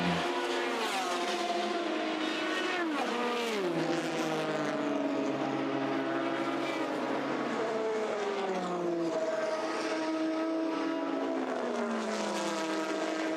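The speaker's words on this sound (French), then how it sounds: "les voitures passent à l'instant le virage d'Arnage" Race cars at the 24 Hours of Le Mans sweep through the Arnage corner, their engines droning loudly and continuously with rising and falling pitch as several cars pass near and fade.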